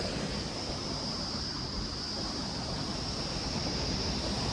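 The Alaknanda river rushing below in the mountains, a constant dense roar of flowing water with a hiss of wind, steady and unbroken throughout.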